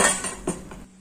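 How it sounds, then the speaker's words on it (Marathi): Roasted coriander seeds and cumin tipped from a pan onto a plate, a few light scraping clinks of a metal spoon against the vessel, close and soft, ending in quiet. "परतलेले धणे आणि जिरे मी एका ताटामध्ये काढून घेते आहे"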